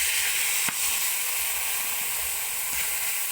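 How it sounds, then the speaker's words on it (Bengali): A little water poured into chilli and spices frying in a pan sets off a steady, bright sizzling hiss, with one brief sharp crackle near the start. "এরপর দেবো সামান্য একটু জল।"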